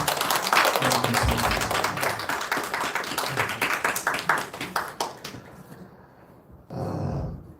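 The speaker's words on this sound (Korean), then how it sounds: "우리 하나님께 영광의 박수를 올려드리면 좋겠습니다" A church congregation claps during an 11th-anniversary thanksgiving service, a loud dense burst of many hands that thins and fades after about five seconds, followed by a short, quieter flurry near the end.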